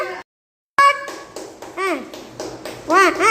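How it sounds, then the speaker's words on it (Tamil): Hands clapping in an anganwadi preschool game, a handful of sharp, close claps spaced across a few seconds, mixed with children's and adults' voices. "நீங்கள் கைத்தட்டுங்கக்கா. கைத்தட்டுங்க."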